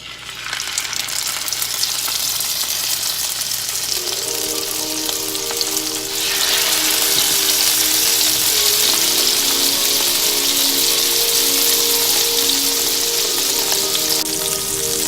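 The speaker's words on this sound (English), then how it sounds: "I'm going to take my salmon and place it skin side down into the pot" Sockeye salmon laid skin side down in hot butter and olive oil over high heat, an even hiss that swells into a loud, steady sizzle partway through and keeps going with no talk.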